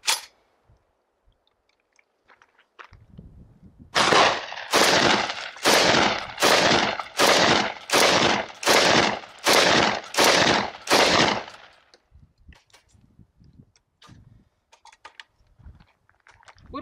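A semi-automatic smoothbore shotgun with a ten-round magazine fires Sterling 28 gram shot shells in a rapid string of about eleven loud, sharp blasts at an even pace, close by, with quiet before and after.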